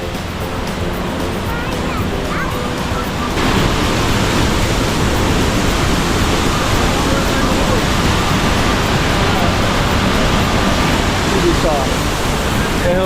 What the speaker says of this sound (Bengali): এটাই হলো সেই বোপ হিল অথবা বাংলায় পান্তমায় ঝর্ণা